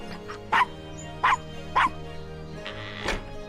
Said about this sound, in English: Coochie coochie coo, little doggy.